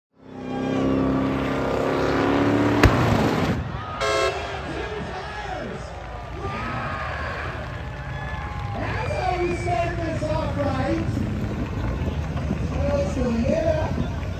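Drag car doing a burnout at the Holley MoParty burnout competition, a loud sustained engine roar with revving and tire noise that swells and holds for the whole stretch, crowd and voices mixed underneath.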